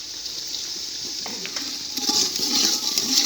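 Water pours into a cooking pot of rice, four glasses of water for two of rice, for a village-style matar pulao with tomato and spices; a steady broadband splashing rush that grows louder and brighter toward the end.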